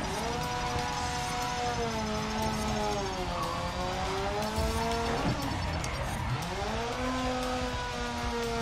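A car drifts in the racing game GRID Legends, its engine droning and rising and falling in pitch while the tires squeal and skid steadily for several seconds, loud and continuous with no talking.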